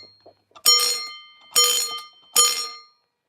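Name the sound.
fire alarm bell ringing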